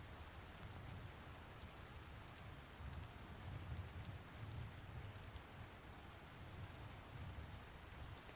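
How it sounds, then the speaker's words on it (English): Steady, even rain from a video game's weather system, a continuous hiss of drops spread across the whole clip with a soft low rumble underneath, no voices. "So this is some nice and basic rain sound"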